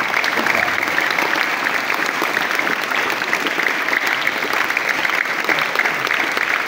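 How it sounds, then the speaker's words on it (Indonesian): A crowd at a Maulidur Rasul community gathering at a school claps steadily for strategic partners and the community, an even, sustained round of applause throughout. "Kita beri tepukan untuk rakan strategik dan komuniti."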